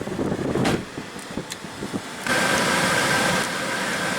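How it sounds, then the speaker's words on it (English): A 2015 Audi A3 with a 1.8 L turbo four-cylinder runs with a steady, fairly loud hum, then swells into a stronger, fuller drone that holds to the end, with no voices. "Very nice little spunky motor"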